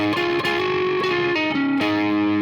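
An electric guitar plays a lead lick, a few bent and slid notes ringing through effects with light distortion and chorus, close and sustained, no voices over it.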